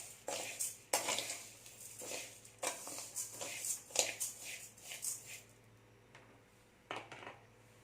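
A spoon scrapes and clinks against a pan as ingredients for thiruvathirai kali are stirred and dry-roasted over medium heat, in quick irregular metallic taps and scrapes at moderate volume, with no talk.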